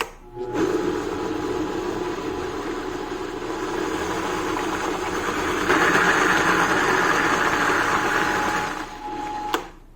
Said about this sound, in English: So I'm doing a blender here.